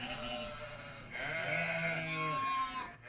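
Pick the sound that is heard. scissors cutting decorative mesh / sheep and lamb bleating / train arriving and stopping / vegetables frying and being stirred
sheep and lamb bleating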